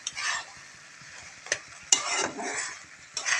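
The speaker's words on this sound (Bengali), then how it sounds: "ঘি দিয়ে ভালো করে নেড়ে নেব, নেড়ে একদম শুকনো করে নেব।" Halwa with ghee is stirred in a pan with a soft sizzle, broken by a few louder scraping strokes of a spoon against the metal, close and fairly quiet.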